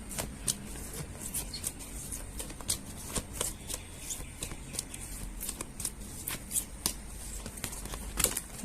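Tarot cards being shuffled by hand, a steady run of soft riffling flicks and snaps close to the listener, repeating with no talking over them.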